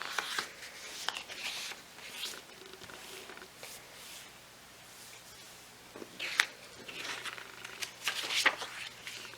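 A paper rectangle for a handmade traveler's notebook cover is folded in half, giving crisp close rustles and scraping creases in short bursts, with a louder flurry near the end.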